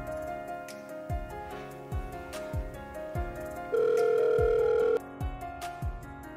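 An unanswered phone call gives one sustained ringing tone partway through, set over a rhythmic thumping music beat that carries on before and after it, with no talking.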